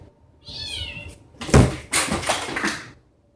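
A pet cat gives a drawn-out meow close by, followed by a loud thump and scuffling knocks, like something bumping or a door being handled nearby.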